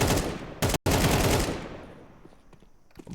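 Loud Counter-Strike gunfire in a professional esports match opens the stretch, with a fast burst of shots and a brief cut, then fades into quieter ambient game sounds and scattered faint clicks.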